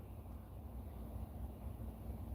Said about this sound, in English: I mean, it's windy here